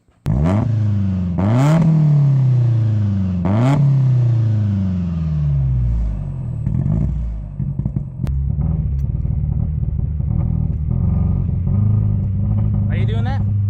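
A Nissan 240SX drift-build engine revs hard three times in quick succession, loud and close, then settles into a rough, rumbling idle with some clatter; voices talk over it.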